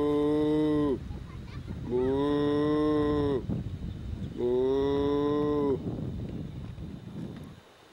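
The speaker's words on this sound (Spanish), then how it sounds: "Viene enojada, Viene enojada la vaca," A cow lows angrily near a cement bridge on a roadway, three long loud harmonic moos separated by short pauses, with faint background noise between calls.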